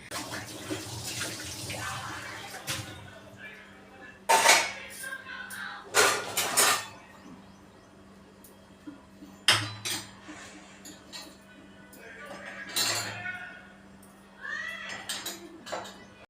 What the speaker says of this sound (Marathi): जेवणाची जी भांडी होती दुपारची ते पण पटापट घासून घेते